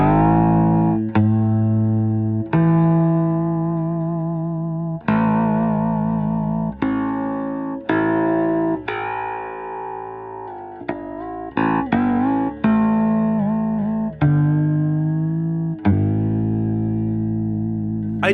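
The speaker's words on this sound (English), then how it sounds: "This is the sound of the 3 separate strings." Three separate bass strings played one after another through effects units, sharp plucked attacks ringing out with distorted, chorused sustain, some notes overlapping in a slow, uneven rhythm.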